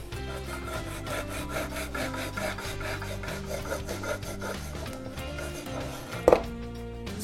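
A knife or cake slicer cuts the baked crust off a sponge cake base with a continuous rhythmic rasping, close and fairly loud, ending with a short sharp tap.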